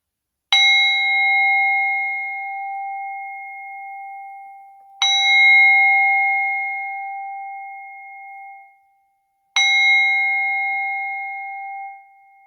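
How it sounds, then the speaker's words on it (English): Three separate metallic bell strikes ring out at even intervals, each a bright clear tone that sustains and slowly decays before the next, heard alone with no voices. "The healing tones of the bells."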